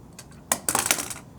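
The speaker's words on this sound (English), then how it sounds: "dropped my pen there" A pen drops onto a desk during a math lesson. Two quick clattering taps land close together, followed by a short rattle as it settles. The sound is close and clear against quiet room tone.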